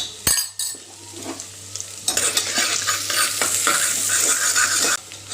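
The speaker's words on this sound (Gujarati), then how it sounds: "આપણે લસણ જે ખાંડેલું એ ઉમેરી દઈશું કાચો સ્વાદ ના આવે ત્યાં સુધી આપણે એને સાતળી લઈશું" Crushed garlic sizzles and fries in a pan over softened onions for a vegetable khichdi, stirred with a spoon that scrapes now and then. A steady loud sizzle runs throughout, with no voices.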